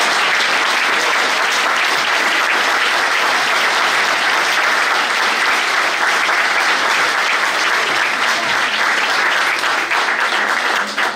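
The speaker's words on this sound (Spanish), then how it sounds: "Yo voy a pedir un fuerte aplauso para el maestro Ariel Bordo." A large audience applauds loudly and steadily, a dense wash of clapping that holds at full strength for the whole stretch and only dips at the very end.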